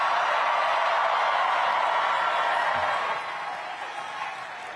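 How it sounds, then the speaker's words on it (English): An audience at a New York City mayoral election night event applauds, a dense steady wash of clapping and crowd noise that eases slightly toward the end. "please give them all a round of applause"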